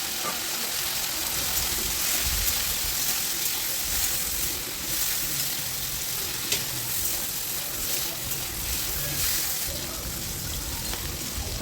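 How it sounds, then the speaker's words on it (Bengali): Country crabs fry in hot oil left over from frying potatoes, giving a close, continuous hissing sizzle with occasional stirring knocks and pops, steady in loudness and with no talk. "ওই তেলেই আমি কাঁকড়াগুলোকে ভেজে নেব।"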